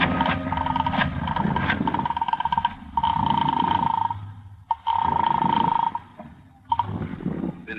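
A house telephone rings in repeated bursts with short pauses between them, a bright, slightly muffled bell tone, in an old radio drama.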